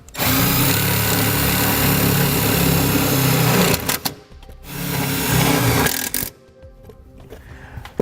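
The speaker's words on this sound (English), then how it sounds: "we'll just secure it in place with the included self-tapping screws" A power driver spins self-tapping screws into metal in a car's engine bay near the hood latch, two long loud whirring runs with a short pause between them, then a quieter tail.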